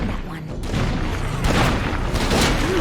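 Heavy auto shotgun blasts fire in State of Decay 2 as a rapid run of booming shots against a Juggernaut, loud and dense, with a player talking over the gunfire.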